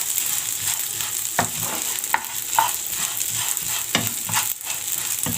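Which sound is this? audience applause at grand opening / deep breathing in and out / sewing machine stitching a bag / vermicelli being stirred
vermicelli being stirred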